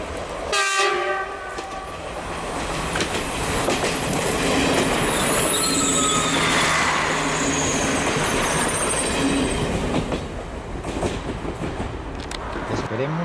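A diesel passenger train rumbles past close by at Xàtiva station in Spain with a loud, sustained roar, wheels squealing and clattering over the rails, and a horn blaring near the start.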